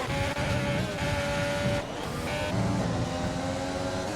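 Two McLaren Formula 1 cars roar past in a racing video game at the Hungary round, a loud steady engine whine with a shift in pitch midway, and no voices over it.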